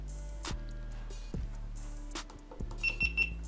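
An Iconntechs action camera gives a quick series of two or three short, high electronic beeps as it is switched on or off, following a few soft handling thumps and clicks.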